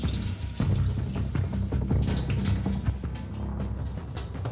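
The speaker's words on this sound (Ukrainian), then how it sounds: "І потихеньку по стінці пляшки починаємо набирати воду." Steady running tap water pours into a bottle, a continuous close splashing gurgle with no voices.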